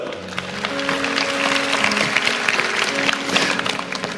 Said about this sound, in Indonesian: Haleluya, kasih tepuk tangan tuh Tuhan.